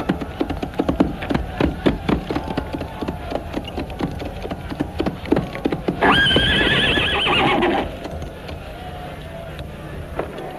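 Horse hooves clop in a rapid rhythm on hard ground, then a loud, close whinny cuts through for about two seconds before the hoofbeats continue.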